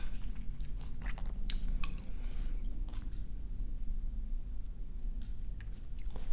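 Mouth-close chewing of kimchi wrapped with slices of Korean boiled pork (bossam), soft wet crunches and squishy bites repeating steadily over a low background hum, with no talking.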